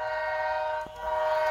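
A BRIO Smart Tech toy train sounds off in its action tunnel, playing a steady, sustained horn-like electronic tone that dips briefly, then carries on at close range.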